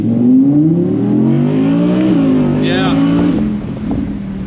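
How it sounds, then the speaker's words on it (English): Audi R8 V10 Performance Spyder engine in performance mode, revving with a sharp upshift partway through, loud and close inside the cabin while a voice talks over it. "it starts to shift really aggressive in the performance mode"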